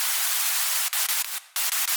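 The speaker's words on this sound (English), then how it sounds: "I even made this adjustment over here just to make the white noise a little bit wider." White noise in a song mix, equalized so only the high end remains, a bright hiss that cuts out in brief gaps and drops away for a moment near the end.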